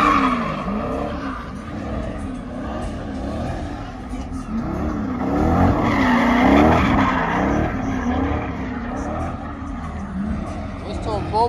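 AMG car spinning its tires at a car show, loud screeching tire squeal with revving engine waves rising and falling over crowd noise, people talking and shouting around.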